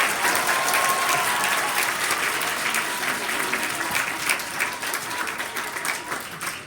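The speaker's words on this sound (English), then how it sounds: "Let's give them a round of applause." A room full of people at a kid governor announcement applauds the press in attendance, a thick, continuous patter of clapping that holds steady, then slowly thins and fades toward the end.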